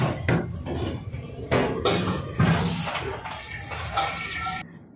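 A kitchen tap runs as bottles are filled for the fridge, with water splashing in uneven bursts and the clink of bottles and dishes throughout.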